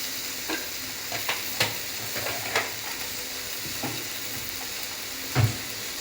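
Onions and spices for a parwal curry fry in a pan, giving a steady soft sizzle broken by occasional stirring scrapes and clinks, close and moderately quiet with no talking.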